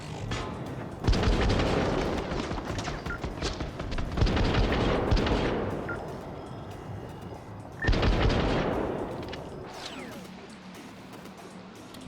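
Heavy gunfire from a sniper and other weapons booms in the video game Syndicate, loud sharp blasts in several bursts with rumbling decay between, and no voices.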